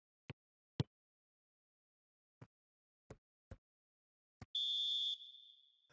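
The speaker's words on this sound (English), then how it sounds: "And there is the half-time whistle." Referee's half-time whistle in a PES 2020 match between Brighton and Manchester City at the Amex Stadium, a single long shrill blast after a few sharp knocks, fading out at the end with no one talking.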